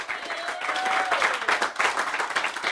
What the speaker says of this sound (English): A round of applause for all our acts.